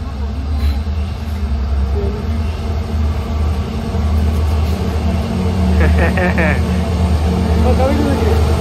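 A goods train rumbles past near a railway tunnel at Sakleshpura, a loud continuous low roar of wagons with rhythmic clatter and a brief squeal near the end, close by, while people talk over it.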